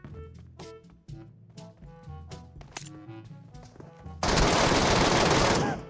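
Gunfire in the game Metro Royale starts as scattered tapping and tonal game sounds, then breaks into a dense, loud burst of rapid automatic shots near the end.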